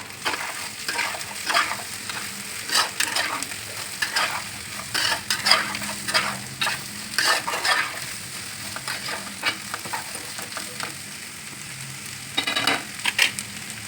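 Finely cut bitter gourd pieces for a tangy pulusu curry fry and get stirred in a pan, producing a continuous moderate sizzle with frequent rhythmic spatula scrapes and knocks, no speech.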